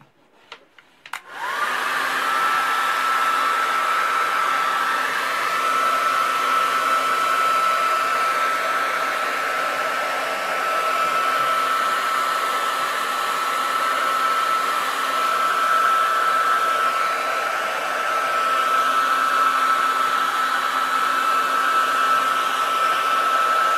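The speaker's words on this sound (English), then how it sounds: "So, I'm going to take the hairdryer." Hair dryer switched on after a few clicks and then blowing steadily on painted whitetail deer antlers, a loud constant whirring hum that runs unbroken for over twenty seconds, close up with no speech.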